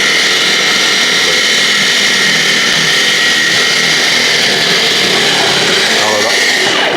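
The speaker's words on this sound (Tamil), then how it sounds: "வெள்ளரி காய் கட் பண்ணி காமிக்கிறேன்" An electric vegetable cutter slices a cucumber in a kitchen. Its motor gives a loud, steady whirring whine that holds for several seconds and then winds down at the end.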